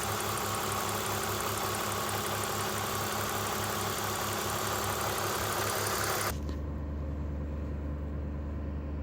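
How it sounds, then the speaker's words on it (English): Warm BMW E46 with an M54B22 engine idling, a steady low rhythmic hum and mechanical chatter that holds evenly, then shifts abruptly to a duller, quieter drone near the end. "Warm engine sound, M54."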